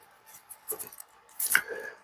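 Scissors snipping marabou feather while tying a fly, a couple of small, close, quiet crisp cuts, with a slightly louder snip toward the end.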